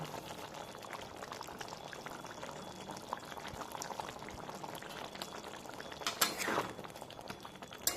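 A pot of Bengali-style bhetki fish curry with potatoes bubbling on a gas flame, a soft, steady simmering hiss and patter, faint and continuous, with a brief clatter near the end.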